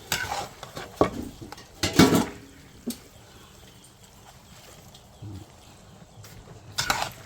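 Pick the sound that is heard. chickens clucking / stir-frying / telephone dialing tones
stir-frying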